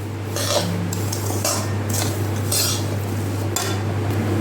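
A spoon clinks and scrapes in a vessel while a jaggery modak filling is mixed with dry fruits. The stirring strokes are irregular and close, over a steady low electrical hum.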